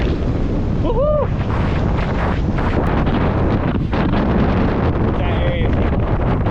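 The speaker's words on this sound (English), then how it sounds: "This wind is so nice." Strong wind buffets the microphone beside a Rocky Mountain lake, a loud, constant roar that never lets up, with brief voices breaking through now and then.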